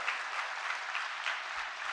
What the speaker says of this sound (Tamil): ஒரு மிகப்பெரிய கரவொலி கரகோஷம் இவங்களுக்கு கண்டிப்பாக நம்ம கொடுக்கணும்